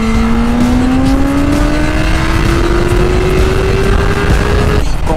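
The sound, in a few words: BMW S1000RR motorcycle accelerating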